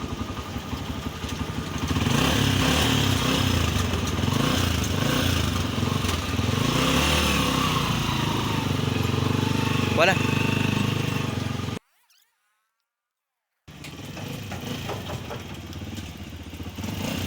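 A Honda TMX 155 motorcycle engine runs after a CDI conversion, a close, steady mid-pitched idle with revving swells and some clatter. Voices talk nearby, and the sound cuts out briefly before the engine resumes.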